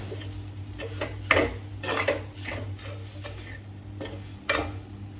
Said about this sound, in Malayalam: ഇനിയിപ്പോൾ ഈ പൊടികളുടെ പച്ചമണം മാറി വരുന്ന വരെ നമുക്കൊന്ന് ഇളക്കി കൊടുത്തുകൊണ്ടിരിക്കാം.